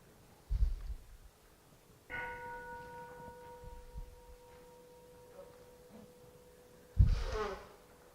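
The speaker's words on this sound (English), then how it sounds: "could we have a sound of the bell" Meditation bell struck during a Buddhist retreat session: a soft initial tap, then one clear strike ringing with a long, steady fading tone, followed by a louder knock near the end in a quiet hall.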